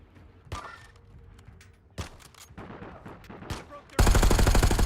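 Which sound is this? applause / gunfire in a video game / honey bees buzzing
gunfire in a video game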